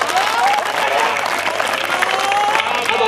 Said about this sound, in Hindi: दोस्तों आपको नज़्म अच्छी लगी तो तालियां बजाइए